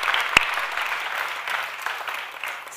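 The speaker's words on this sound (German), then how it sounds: "Und jetzt würde ich gerne Kurt Eschbacher begrüßen mit einem Applaus." Audience applause at a German patient information event, steady clapping from a seated crowd that stays fairly even throughout with one sharp louder clap near the start, no talking over it.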